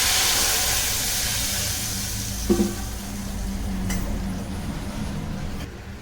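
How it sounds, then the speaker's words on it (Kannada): Tamarind juice poured into a pan of frying urad dal and chana dal, a steady close sizzle and hiss with a brief splash and clink partway through, no talking. "ಇವಾಗ ಹುಣಸೆ ಹಣ್ಣು ನೆನೆದಿದ್ದೀನಿ ಹುಣಸೆ ಹಣ್ಣಿನ ರಸ ಇದಕ್ಕೆ ಹಾಕೋಣ"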